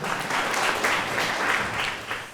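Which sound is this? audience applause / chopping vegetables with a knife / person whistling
audience applause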